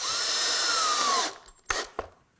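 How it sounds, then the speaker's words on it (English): A power drill drives a pocket hole screw into MDF on a sliding router table build, whining steadily up close for over a second, then stopping, followed by a few sharp clicks and knocks. "Next thing I'm going to do is screw it down using some pocket hole screws."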